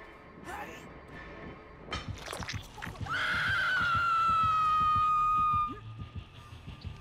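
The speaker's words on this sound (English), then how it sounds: "your scream was very loud as well, I heard" A person lets out one loud, sustained scream that lasts a few seconds, with chatter and scattered noises before and after it.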